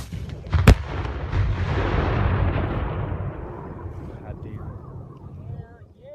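A toy rocket launcher fires a sound effect: a sharp blast followed by a long rumbling explosion that slowly fades, loud and close, with speech also present.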